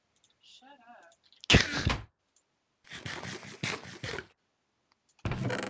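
A single sharp sneeze bursts out loudly in a quiet room during a co-op Minecraft session with a sister, preceded by faint game sounds and followed by speech.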